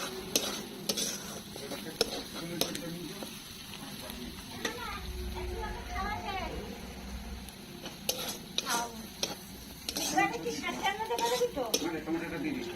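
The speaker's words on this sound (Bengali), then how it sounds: "রসুন, সুন্দর করে ভেজে নিচ্ছে।" Garlic frying in a pan while crab is being cooked, a steady low sizzle under repeated stirring clatter, with voices talking throughout.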